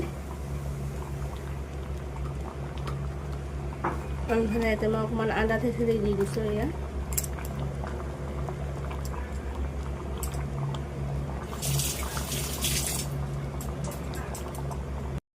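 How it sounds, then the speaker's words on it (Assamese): Lentil dal bubbles steadily in a cooking pot, a continuous soft simmering hiss beneath a woman's speech, with a brief clatter near the end. "এইফালে দালিখিনি উতলি আছে"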